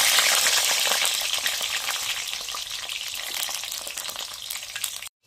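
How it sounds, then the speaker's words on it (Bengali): Cut brinjal pieces fry in plenty of hot oil for shukto, a loud, dense, steady sizzle that hisses evenly for about five seconds and then stops abruptly. "প্রথমেই আমি কেটে রাখা বেগুনটা ভেজে নিচ্ছি।"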